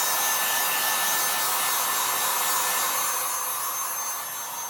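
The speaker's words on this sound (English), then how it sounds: "I'm going to use my heat gun" A heat gun blows a loud, steady roaring hiss close up while drying tea-dyed fabric, running continuously for nearly five seconds and easing slightly toward the end.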